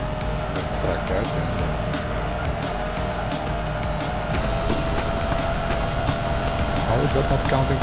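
A drifting car in the video game Driftpunk Racer gives a steady engine roar with tire noise, loud and unbroken for the whole stretch, with a voice over it.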